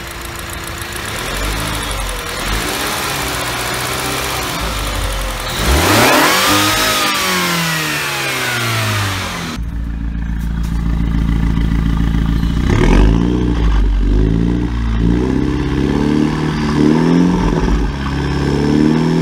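A petrol engine in a 2018 Mini Cooper S John Cooper Works F56 hums steadily and then revs up and down in several rising and falling sweeps, loud and close throughout, with no talking.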